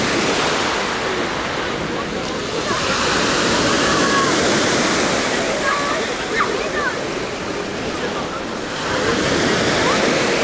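Sea waves wash onto a resort beach at Oba, Alanya, with an occasional higher wave; a steady, loud broadband surf roar with wind buffeting the microphone, continuous throughout.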